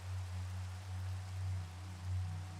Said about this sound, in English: the rain comes to wash away my shame